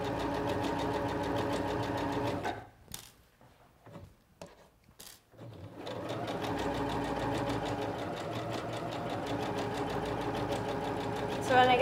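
A Singer Professional 9100 sewing machine sews a blind hem on a folded skirt edge, running in a steady close whir that breaks off for a few seconds midway before resuming at full pace.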